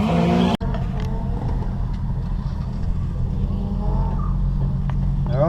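A drift car runs on a race track in the wet, with a continuous engine drone and revving, loud and close after a brief cut at the start, plus a short faint squeal near the end.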